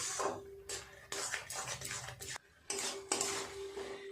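Carrot halwa with raisins and cashews being stirred in a pot, with a spoon scraping and clinking against metal in short bursts and brief pauses between strokes, close up.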